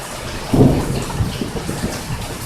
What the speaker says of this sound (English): Of course, we got the thunder still going on.